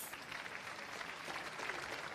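Steady round of applause from the audience at a cheese awards ceremony in Viseu, Portugal, a dense even patter of many clapping hands that holds at a moderate level for the whole stretch with no voices over it.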